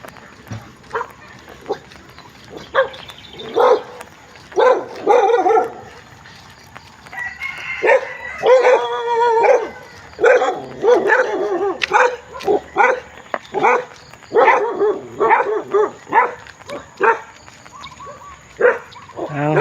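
A dog barks in repeated bursts alongside roosters crowing and hens clucking nearby, a noisy farmyard mix with occasional voices.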